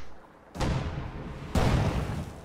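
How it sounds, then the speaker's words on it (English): Two loud anti-tank gunshots from a strategy video game, each a sudden heavy boom with a lingering rumbling tail, about one second apart. "AT gunshots going through the buildings, not quite connecting with anything."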